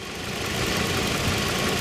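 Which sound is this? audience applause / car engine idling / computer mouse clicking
car engine idling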